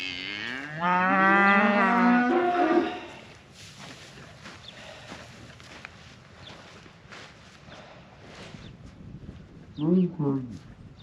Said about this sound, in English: here comes the little cows running